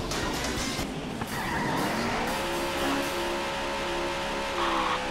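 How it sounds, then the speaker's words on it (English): Race car engines roar in the Daytona USA arcade racing game, rising in pitch with rapid tire squeals and skids, loud and close, over continuous game sound. "Gentlemen, start your engines."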